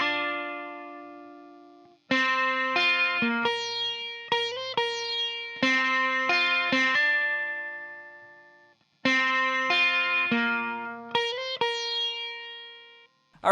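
Guitar riff from a song, played on a processed electric guitar with effects: plucked melodic figures repeat in two phrases, each note ringing out and decaying, with no talk.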